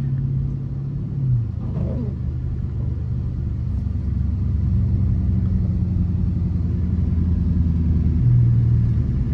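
A Dodge Challenger RT cruises in the rain at midnight, heard from inside as a steady low engine rumble and road drone, with a brief rise in revs near the start and another toward the end.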